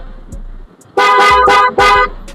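A loud car horn blasts three times in quick succession, each honk strong and sustained, close by, after a brief quiet moment.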